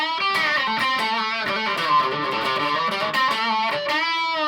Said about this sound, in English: the phase does actually sound quite good when you've got a distortion on